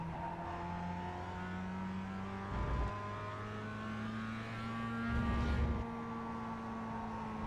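Mazda MX-5 racing around Laguna Seca in the iRacing sim, engine tone holding steady then rising through gears, with two short bursts of rougher noise, loud and continuous without talk.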